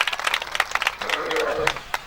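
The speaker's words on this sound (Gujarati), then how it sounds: "મહેશભાઈ કસવાળાનો આપણે તાળીઓના નાદ સાથે આપણે એમનું સન્માન કરીશું" Audience applause honoring a guest at a Saurashtra Leuva Patel community mass wedding, a crowd clapping in a fast, dense patter close by, with someone speaking over it through a PA.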